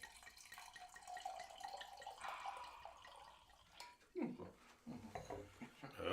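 Wine is poured into a glass in a quiet room, a soft liquid trickle and splash that swells in short bursts toward the end, among faint background voices.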